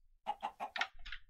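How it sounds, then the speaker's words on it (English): Chickens in the Minecraft video game cluck in a quick run of four or five short, fairly quiet calls, ending in a softer trailing note. "this is the room with the chickens. They are still laying all sorts of things."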